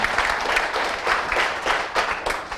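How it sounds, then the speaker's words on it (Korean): Audience applause, a dense wash of many hands clapping in a room, moderately loud and steady for a couple of seconds. "이 천년 기념물들을 위해서 박수 한번 부탁 좀 드리겠습니다"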